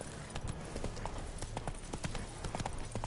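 Horse hooves clip-clop in a quick, steady galloping rhythm while riding in a video game, close and clear against low background ambience.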